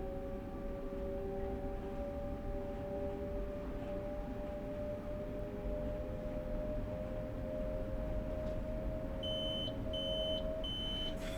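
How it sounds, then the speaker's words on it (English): A Train Sim World 5 train cab warning on a Long Island Rail Road commuter service sounds as a sustained electronic tone, joined near the end by a series of short repeated beeps over a steady engine drone. "Stop beeping at me."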